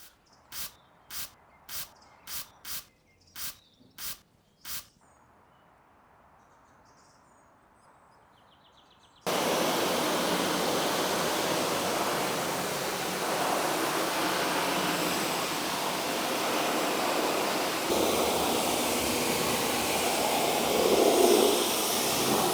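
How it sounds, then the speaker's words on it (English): A series of short sharp clicks or beeps from a self-service wash box, then a steady loud hiss of a high-pressure water blast pre-wash spraying a BMW M3, continuing close and unbroken. "Pre-wash with blast and let dirt drip off."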